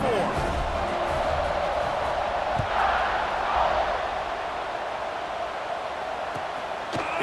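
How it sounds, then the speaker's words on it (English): A football stadium crowd buzzes in a steady, loud roar after a touchdown, with a commentator talking over the noise. "this crowd is buzzing after that last score"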